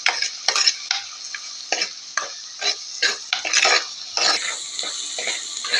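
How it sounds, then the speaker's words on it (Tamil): Onions for onion kuzhambu being sautéed in a pan, heard as a run of distinct scraping stirs with light sizzling and utensil clinks against the metal, close up and with no talk. "வெங்காயம் நல்லா வதங்கிட்டு இருக்கு."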